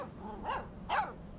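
In the video game Life is Strange 2, a dog gives two short, quiet barks about half a second apart over a faint background hum.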